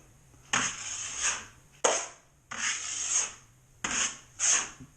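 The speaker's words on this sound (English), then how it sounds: "And then you trowel it down." A trowel smooths drywall texture compound in a Santa Fe style patch over a doorknob hole, making four or five long wet scraping strokes in a steady rhythm, close and clear with no talk.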